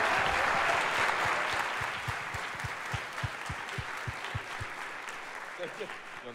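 Loud sustained applause from a studio audience at a French live debate show, dense clapping that gradually thins and fades over several seconds with no voices on top.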